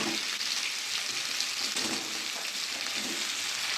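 Pumpkin pieces going into a hot pan with prawns, frying in a dense, even hiss that stays loud and close throughout with faint stirring underneath and no voices.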